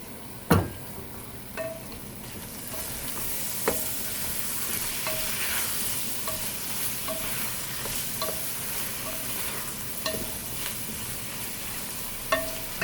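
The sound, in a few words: tomato frying and being stirred in a pan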